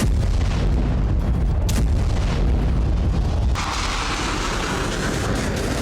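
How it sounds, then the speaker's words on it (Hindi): A massive explosion from an airstrike on a weapons depot in Kyiv rumbles as a deep, sustained roar, with the blast noise continuing as a loud, noisy wash of debris and echo. "यह धमाका इतना जोरदार था कि आसपास की जमीन कांप उठी थी।"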